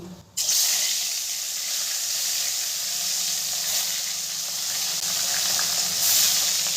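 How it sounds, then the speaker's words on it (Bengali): Rui fish pieces frying in plenty of hot mustard oil on a gas flame, a steady loud hiss and sizzle that starts abruptly and holds near and continuous. "তেলটা ভালো করে গরম হয়ে গেছে, এরপরে দিয়ে দেবো মাছগুলো।"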